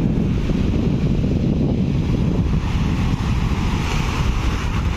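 Sea waves roll and crash continuously at La Union beach in the Philippines, a loud, dense wash of surf with wind buffeting the microphone throughout.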